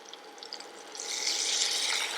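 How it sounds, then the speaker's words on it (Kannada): Boiled moong dal tipped into a hot frying pan for rava pongal sets off a steady, fairly loud hiss that swells after a few faint clicks and holds to the end, with no talking. "ಇದಕ್ಕೆ ನಾನು ಬೇಯಿಸಿಟ್ಕೊಂಡಿರುವಂಥ ಹೆಸರು ಬೇಳೆಯನ್ನು ನಾನು ಆ್ಯಡ್ ಮಾಡ್ಕೊಳ್ತಾ ಇದ್ದೀನಿ"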